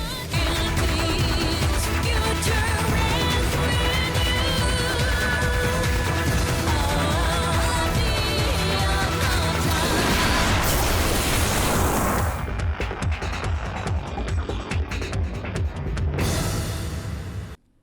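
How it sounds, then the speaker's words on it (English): Repeated booms and bursts from the video game Neo Contra crash over dense game music and effects, loud and continuous, then thinning out near the end. "The game is filled to the brim with explosions too, just look at them."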